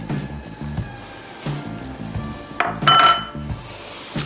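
A pound of crawfish tails tumbles into a cooking pot for étouffée, with a few soft clinks and scrapes of utensil against the pot and a brighter clatter near the end, close and fairly quiet.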